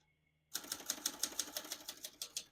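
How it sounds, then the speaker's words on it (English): Rapid, evenly spaced clacks of the keys of a 1968 Adler Tippa S portable manual typewriter, close and crisp, starting abruptly after a brief silence and continuing in a steady rhythm. "all the keys type nice and none of them skip or stick"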